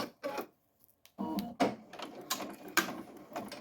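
An embroidery machine runs a placement stitch, outlining an appliqué design before glitter heat-transfer vinyl goes on; it makes close, irregular mechanical stitching bursts with brief pauses, a busy rattling patter.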